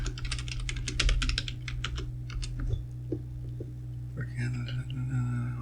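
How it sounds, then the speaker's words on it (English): Quick, close keystrokes on a computer keyboard as a password is entered, a brisk burst of clicks that thins to scattered taps, over a low hum with faint murmured speech. "Put in my password."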